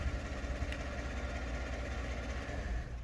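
A 2015 Chevrolet Silverado 1500 Double Cab pickup's engine idles steadily after a remote start, a continuous low rumble with even mechanical hum throughout and no talking.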